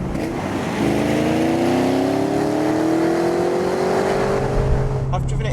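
A Vauxhall VXR8 Tourer estate, an Australian-built V8 hot rod, revs hard with a steadily rising engine note that holds loud and close for several seconds before cutting off abruptly.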